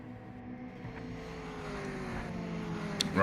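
A Mazda MX-5 race car engine in the Project Motor Racing video game hums faintly and steadily in the background, its pitch sliding gradually, with a short sharp noise near the end.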